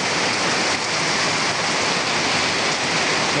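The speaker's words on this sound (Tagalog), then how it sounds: "Grabe oh, lakas ng ulan." Heavy rain pouring down in a steady, dense hiss while a person shelters from it, loud and continuous with no voices.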